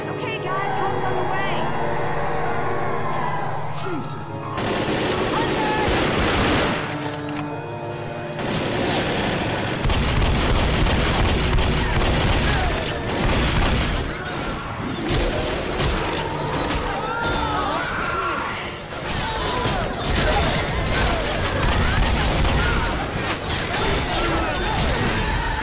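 Gunfire from the zombie shooter Left 4 Dead rattles in dense bursts and booms through a loud, cluttered game mix, with crashes and a voice talking over the action.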